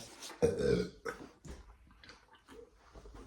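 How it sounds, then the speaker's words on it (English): One loud, deep burp follows a drink of bubbly water, then a few softer breathy mouth and throat sounds trail off. "My burp. My bubbly water."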